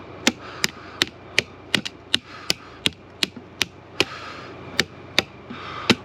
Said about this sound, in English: You gotta hammer them back out of the way so you can get the macaronis off.